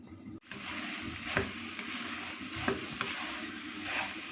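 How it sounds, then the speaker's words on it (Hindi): A spoon stirs and scrapes wonton filling with boiled peas and spaghetti in a hot pan, a steady close sizzle with occasional clinks of the utensil against the pan. "इसको मिक्स करते दोबारा से हीट को मीडियम कर लेंगे"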